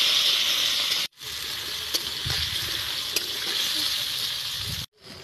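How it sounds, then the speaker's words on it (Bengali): Onion and potato frying in a hot pan for a spicy semolina dish, a steady close sizzle with soft crackle and brief stirring clicks, cut off by short silent breaks at the start and end. "পেঁয়াজ আর আলুটাকে খুব ভালো করে ভাজা করে নেবো।"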